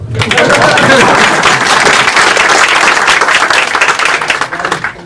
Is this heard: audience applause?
yes